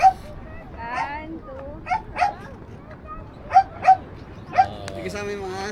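Dogs bark and yip in short bursts with a few whimpers between them, close by during an outdoor group trip in Baler, while people talk and laugh over them.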